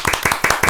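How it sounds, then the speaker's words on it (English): A small business club audience at a podcast recording bursts into brief, close clapping, several rapid claps spread across under a second with no talking. "definitely wasn't looking for a clap"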